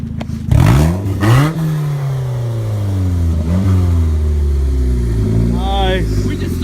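Mazda car with an unbolted exhaust revving hard, a few sharp bursts followed by a loud, raspy engine drone that rises and falls, close by, with people talking over it.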